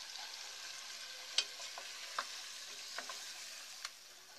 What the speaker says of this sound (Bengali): এবার এগুলো ভালো করে একসাথে নেড়ে মিশিয়ে নিব।